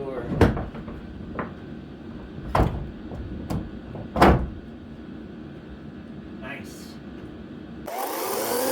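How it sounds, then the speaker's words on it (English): A wooden door in a newly built cabin is opened and closed, giving a few sharp knocks and thumps spaced a second or two apart over a low steady hum, followed by a burst of broadband noise. "So that makes it much easier to open and close this door."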